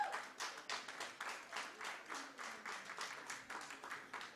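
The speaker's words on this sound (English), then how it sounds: "But please give him a round of applause." An audience at a research chair launch applauds Prof. Nkondo with quiet, rhythmic clapping in pulsing waves, faint and somewhat distant, continuing evenly throughout without voices.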